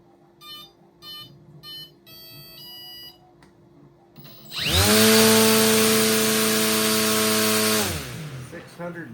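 An RC motor drives an oversized propeller on a thrust test stand, spinning up abruptly into a loud, steady whine with a strong buzzing tone, holding for a few seconds and then winding down, after soft clicks and beeps beforehand.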